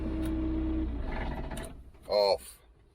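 A forklift truck at a bricklaying site rumbles steadily at first, its low engine note fading as it moves off, followed by a brief voice near the end.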